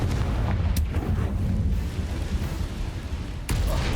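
Confringo spell blast during a Hogwarts Legacy boss fight: a dense, booming roar of explosion noise fills the clip, swelling and rumbling, with a sharp crack near the start and another burst toward the end.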